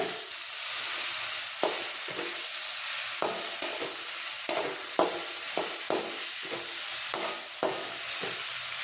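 Tomatoes sauté in a pan for tomato chutney, a steady close sizzle broken by a rhythmic series of spatula scrapes and taps against the pan.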